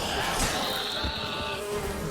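A buzzing swarm of insects in The Witcher 3 video game makes a steady drone with a sustained whine riding over game ambience, constant and fairly close for the whole clip.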